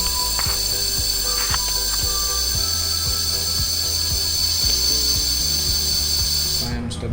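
An electric bike hub motor from a 48/60V 1000W 17-inch conversion kit, spinning up in steps: a steady high electric whine over a rhythm of short regular ticks and clicks, close by, running alone without voices.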